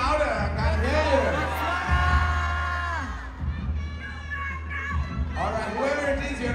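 Live audience at the Miss World 2024 final in India screaming and cheering loudly as a crowd, sustained waves of shrill voices and whoops throughout, with a host's voice carrying over the noise.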